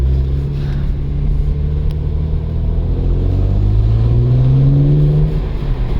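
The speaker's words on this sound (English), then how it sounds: "When those twin turbos kick in, gosh, this car feels like it's gonna take off." A manual BMW 335i E93 twin-turbo convertible accelerating, a loud close engine drone rising steadily in pitch through the gear, heard from inside the car without talk.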